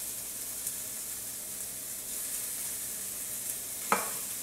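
Tomato hits a hot pan and sizzles steadily while being stirred, a soft, even frying hiss with a brief utensil clack near the end.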